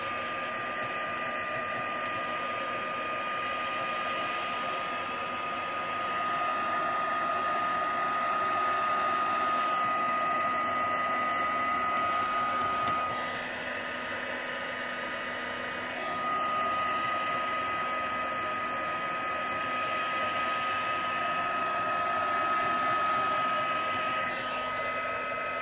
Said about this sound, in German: Und dann nehmen wir den Heißluftföhn und föhnt es mal ein bisschen an,